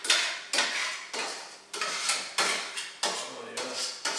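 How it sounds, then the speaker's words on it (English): A spoon stirring three eggs with vegetables in a pan for fried rice gives a series of about eight sharp metallic scrapes and clanks at a steady rhythm, close and fairly loud, each decaying quickly. "I'm going to go ahead and use this spoon here. Stir it in here with these vegetables real good."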